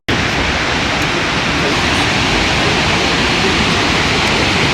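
Fukuroda waterfall in Japan roars as a steady, loud, broadband rush of falling water, unbroken and close, with no other sounds standing out.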